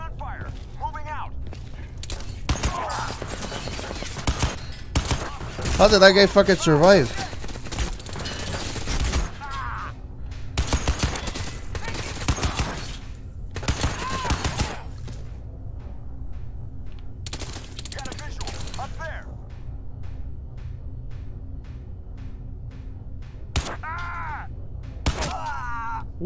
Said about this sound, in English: Gunfire! Gunfire! Moving out!